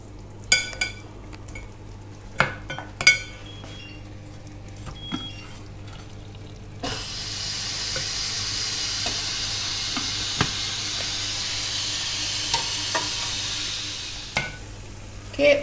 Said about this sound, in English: So I'm just turning these over now, just getting them a little bit more browned off.